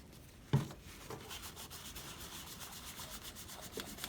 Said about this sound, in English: get some rubbing alcohol and clean the old thermal paste off